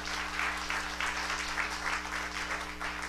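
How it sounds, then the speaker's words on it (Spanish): Church congregation applauding together at a steady level, a continuous wash of clapping against a constant low hum, with no voices standing out. "démosle un fuerte aplauso al Señor"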